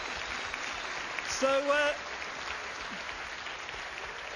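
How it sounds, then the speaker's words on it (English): Applause from a live quiz audience, a fairly soft steady patter of clapping with a short spoken word cutting in partway through. "Give him a round of applause."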